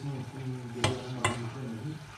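Steak stirred in a hot frying pan, a soft sizzle under two sharp scraping clinks of the utensil against the pan, fairly quiet and close.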